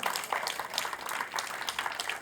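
A church congregation applauds during a sermon, many hands clapping in a continuous, even roar that fills the space at moderate volume.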